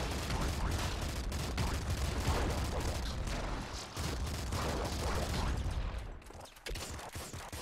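Heavy assault rifle fire in the video game Nuclear Throne: dense, rapid bursts of gunshots and impacts rattling almost continuously, briefly thinning near the end, with no voices.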